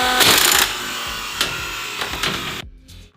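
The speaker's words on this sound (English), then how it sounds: "namely the concrete nail gun" A powder-actuated concrete nail gun fires several sharp, loud bangs into a concrete slab with a harsh mechanical rattle, close by, with short pauses between shots and no talking.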